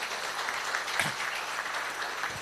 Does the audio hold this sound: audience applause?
yes